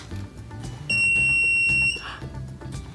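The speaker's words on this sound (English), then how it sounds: "It beeped, so it must be metal." A steady high-pitched electronic beep from a homemade paper metal detector held near scissors holds for about a second, sounding over a low background hum.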